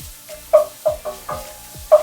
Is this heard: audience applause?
no